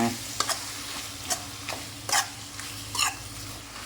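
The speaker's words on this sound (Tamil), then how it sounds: "இப்போ நம்ம மட்டனை கொட்டிக்கலாம் கொட்டி நல்லா கலகி விட்டுக்கோங்க" Mutton going into a pot of hot masala for mutton kuzhambu and being stirred, with a low continuous sizzle broken by several sharp scraping strokes of a spoon against the pot at irregular intervals.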